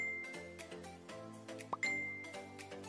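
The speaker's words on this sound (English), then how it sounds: "This is the default sound of messenger notifications and chats." Default Messenger notification chime: a short bright ding with tinkling overtones over a sustained musical tone, quiet and close, with no talk.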